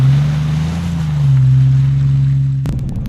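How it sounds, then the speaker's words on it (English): A 4x4 Jeep idles and pushes through a muddy creek crossing, its engine a steady, loud drone close by, ending in a few sharp clunks and splashes. "it had a fun, muddy little creek crossing to go through."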